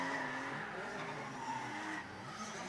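At a drift series event at Tarlac Circuit Hill in the Philippines, a drift car skids under heavy handbrake with its tires squealing, a fairly faint, sustained screech over engine noise across the whole short stretch.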